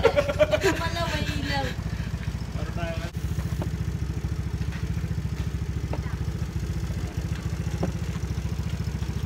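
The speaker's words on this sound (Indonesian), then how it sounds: "Oh, may motor pa." A motorcycle engine idles nearby during a brownout, a steady low rumbling throb running throughout, with a brief higher rev and voices at the start.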